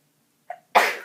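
A single sneeze: a short sharp intake, then a loud, breathy burst that trails off, with no talking around it.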